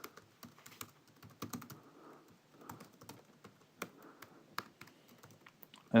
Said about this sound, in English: I hope I'm typing correctly.